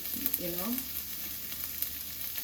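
Flattened rice (poha) fries and stirs in oil, a soft steady sizzle with light scraping clicks close by, and a short voice briefly over it.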